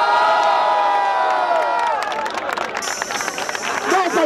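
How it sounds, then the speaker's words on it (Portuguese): Crowd at an outdoor rap battle in Barueri, São Paulo, with cheering and shouting building into a dense, loud wash of clapping and crowd noise, voices mixed in throughout. "vamos dar continuidade nas palmas que tá foda essa batalha"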